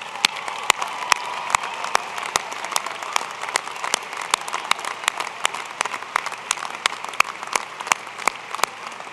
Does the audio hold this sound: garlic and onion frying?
no